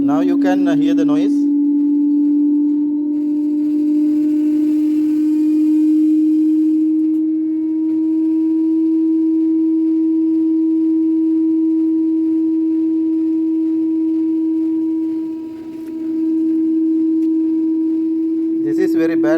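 A Daewoo washing machine spinning up at rising RPM gives off a loud, steady droning hum with a strong low tonal whine and overtones, sustained for nearly twenty seconds with brief rattly bursts at the start and end.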